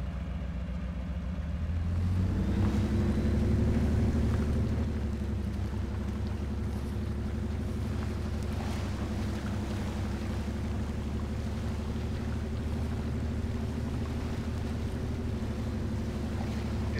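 An off-road truck in the Mudrunner game, in forward gear with all-wheel drive, its engine revving up into a low, steady drone that then holds a constant throbbing rumble, with no talk.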